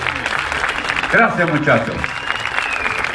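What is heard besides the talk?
audience applause for folk dance couples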